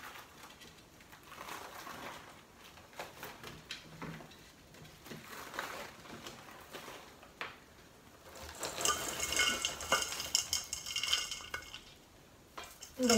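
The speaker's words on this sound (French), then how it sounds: "Donc je fais la même chose, j'émiette grossièrement s'il reste des gros paquets." Baked granola is coarsely crumbled by hand on a baking sheet, giving soft scattered crackles and scrapes that grow busier and louder toward the end, with no talking.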